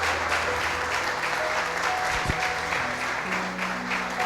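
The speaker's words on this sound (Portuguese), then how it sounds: "Pode aplaudir ao Senhor." A church congregation applauds during a Pentecostal-style service, steady broadband clapping sustained throughout at moderate level, with faint sustained tones and murmuring underneath.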